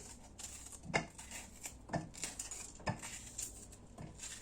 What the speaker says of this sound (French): خديت هنايا فلفلة حمراء غادي نقطعها